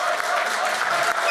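A summit audience in Dubai gives a brief burst of dense, steady applause that fills the hall, with a faint voice underneath.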